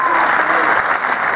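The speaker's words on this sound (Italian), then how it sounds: "un applauso alla massa di capelli di José." Audience applause at a tribute benefit concert in Cologno Monzese, a dense steady wash of clapping hands held at an even level from start to finish, close and loud with no break.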